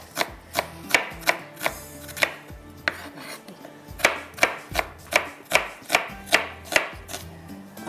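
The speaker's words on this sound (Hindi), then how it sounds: "आपने इसको कटिंग कर लेना लाइटली।" A knife chops vegetables lightly on a board in a steady, quick rhythm of crisp, close taps, with onions being prepared for fried vegetables.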